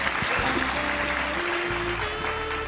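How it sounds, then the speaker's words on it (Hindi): An audience at a speech event claps together, a dense, continuous wash of clapping heard from within the crowd, with faint steady tones underneath. "जोरदार ताली दोस्तों।"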